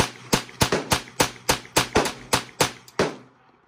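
Ten gunshots ring out in quick succession during a timed practice run at a shooting range, sharp, loud, evenly spaced cracks each with a brief decaying echo, then silence.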